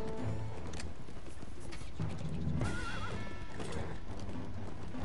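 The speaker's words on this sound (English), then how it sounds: "Hurry up, horse." Video game horse galloping with busy, continuous hoofbeats under dense game noise, and a short wavering neigh breaking through about midway.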